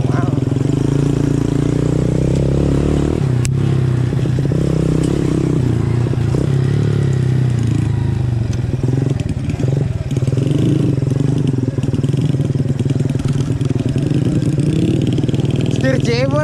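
A village ojek motorcycle rides a rice-field farm road, its engine droning loud and steady for the whole stretch, with rattles and clatter from the rough track and a voice speaking intermittently above it.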